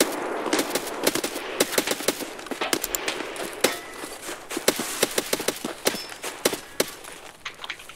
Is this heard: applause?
no